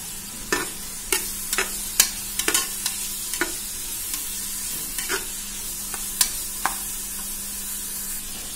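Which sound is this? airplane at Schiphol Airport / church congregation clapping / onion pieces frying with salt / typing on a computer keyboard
onion pieces frying with salt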